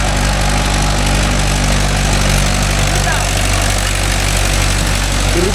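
A Mahindra 575 DI tractor with cage wheels levelling muddy rice field, its diesel engine droning loud and steady throughout, close by and unbroken.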